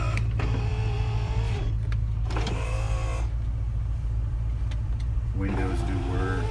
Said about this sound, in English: windows do work. The back windows work.